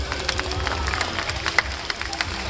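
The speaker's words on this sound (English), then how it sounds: "Let's give them a nice round of applause." A crowd at a bird park show finale claps briefly and densely, soft scattered applause mixed with faint murmuring, heard from a short distance.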